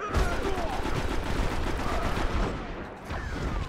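Rapid gunfire in a Destiny multiplayer match, with dense overlapping shots and bursts that continue steadily through the whole stretch at a loud, close level.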